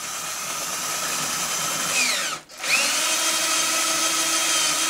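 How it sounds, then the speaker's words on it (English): A power drill whines steadily as it bores through a guitar headstock for tuning machines, briefly dipping in pitch midway before spinning back up, loud and close. "And I just drill until I see white wood."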